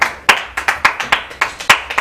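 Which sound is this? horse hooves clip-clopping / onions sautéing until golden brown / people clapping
people clapping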